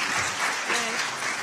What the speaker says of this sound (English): we have to give them a huge round of applause to thank them for that